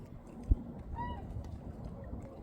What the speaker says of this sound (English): do you hear that? Yeah, there's swans out there.